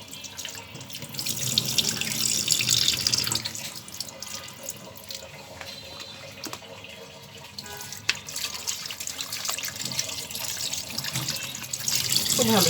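Food is rinsed under a running kitchen tap while beef is prepared for cooking in a clay pot, giving a loud, continuous gush into a sink with splashes and a few knocks.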